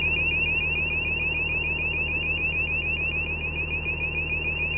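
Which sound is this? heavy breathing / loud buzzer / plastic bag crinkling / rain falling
loud buzzer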